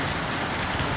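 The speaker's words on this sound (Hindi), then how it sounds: "40 साल के बाद ऐसी बरसात हुई है आज, यानी कि रिकॉर्ड तोड़ बारिश हुई है आज।" Heavy, record-breaking downpour, the worst in forty years, pours down as a steady, dense hiss of rain on surfaces, loud and unbroken throughout.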